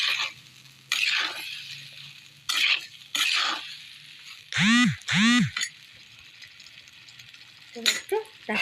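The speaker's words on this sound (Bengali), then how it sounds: "স্বাদ মতো লবণ দিয়ে একটু নাড়াচাড়া দিয়ে নেব" A spoon scrapes and stirs food in a cooking pan after salt goes in, giving intermittent close scraping strokes with short bursts of clatter. Someone talks between the strokes.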